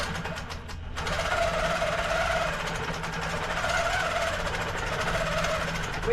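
Domestic sewing machine stitching an insulated tote bag, a fast, steady mechanical whir with rapid needle rhythm running continuously after a brief pause at the start, fairly close and without talk.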